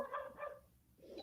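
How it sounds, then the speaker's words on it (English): A dog barks about twice in quick succession near the start, then a third bark-like burst at the end, fairly faint and close, in an indoor setting with no talking. "sorry if you hear a dog barking"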